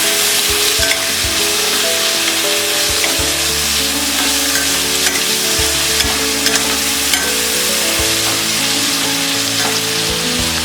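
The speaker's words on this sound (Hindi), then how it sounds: "हमने इसे 5 मिनट तक लो फ्लेम में फ्राई किया है।" Tomatoes and onions frying on a low flame for bread upma, a loud, dense, continuous sizzle with occasional stirring clatter, close up and unbroken by speech.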